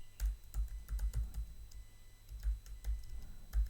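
Keys clatter on a computer keyboard in rapid, uneven bursts of close clicks and taps, with short pauses between runs; no one speaks.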